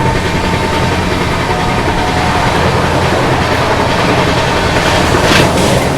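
The Chennai Central–Mangalore West Coast Superfast Express runs on its rails with a loud, continuous roar of wheels and carriage rumble, steady throughout and close by, with no voices heard.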